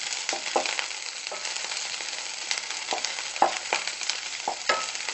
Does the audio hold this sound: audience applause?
no